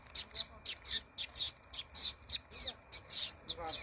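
A human voice mimics small prinia birds in grassland, producing about a dozen quick, high, thin chirps in a steady, evenly spaced rhythm, fairly quiet against a soft background hiss.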